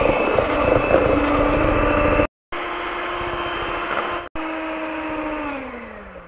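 An electric mixer drones loudly and steadily while beating eggs into cake dough, with two brief cut-outs. The motor pitch sinks slightly toward the end, and no one talks.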